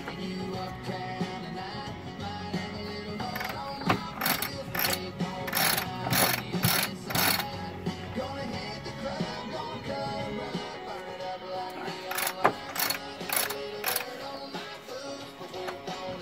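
A freshly serviced self-tailing sailboat winch is turned by hand, giving steady close mechanical ratcheting with clicking pawl bursts, loud and clear without talk.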